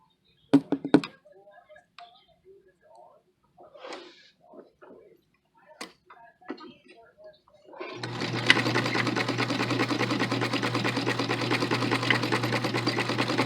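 A sewing machine stitches a seam on a garment, starting after a few knocks and handling sounds, then running in a steady, rapid mechanical chatter, close and loud.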